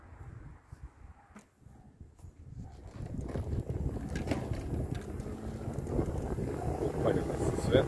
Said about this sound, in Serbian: Duva neki vetrić.